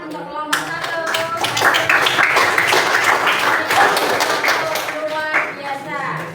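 Classroom applause for the first student group at a junior high school: a burst of distinct hand claps from a small room of students, rising quickly, holding several seconds, then thinning out, with some voices underneath.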